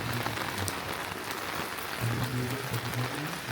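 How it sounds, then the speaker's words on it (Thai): Steady rain pours down during a storm at a forest temple in Mae Ai district, Chiang Mai, Thailand, a dense continuous hiss of drops on surfaces that holds at an even level throughout, with no voices. "บรรยากาศตอนนี้ฝนตกครับผมท่านผู้ชมครับ พายุเข้าครับ"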